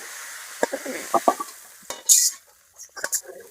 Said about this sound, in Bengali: পরে তেল দিয়ে দিলাম, পাঁচফোড়ন দিয়ে দিলাম, সাথে দিকে তেজপাতা দিয়ে দিলাম